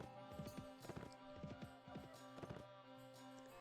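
Horse hooves clip-clop in steady repeated rhythmic beats in the Mount & Blade: Warband video game, over a constant background hum from the game, with no talk.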